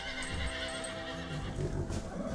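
Frightened horses in a stable neighing, a high shrill whinny close by with faint hoof movement beneath, set against a steady dramatic background score.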